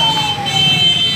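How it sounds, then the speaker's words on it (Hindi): An ambulance siren comes up from behind through a crowded, busy market street, a steady wailing tone riding over dense traffic and crowd noise, fairly close and continuous. "बाज़ार में रश बहुत ज़्यादा है क्योंकि एम्बुलेंस आ रही है पीछे से।"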